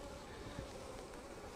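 Honey bees buzz steadily on a hive frame as it is handled, a dense, close, continuous drone with no voices.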